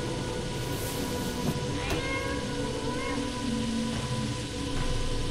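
A cat meows in the video game FNAF Into The Pit, a few short meows over steady rain-like background noise, close and moderately loud.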